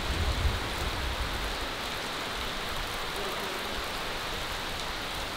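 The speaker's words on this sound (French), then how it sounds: "Là, il pleut beaucoup." Heavy monsoon rain pouring steadily during the rainy season, a dense continuous hiss of falling water that stays loud and even throughout with no talk.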